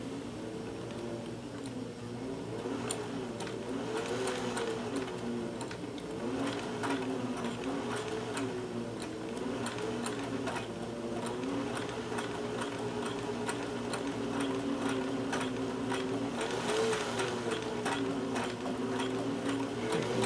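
A Singer sewing machine stitches free-standing fringe in one long, continuous run with a steady mechanical hum and rapid needle clatter, close and loud, with no voices.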